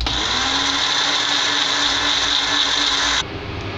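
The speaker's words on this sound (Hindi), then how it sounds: "मैंने सभी चीज़ों को बारीक मिक्सी में पीस लिया है" A mixer grinder grinding tea masala spices whirs loudly and steadily, grinding continuously before cutting off abruptly near the end.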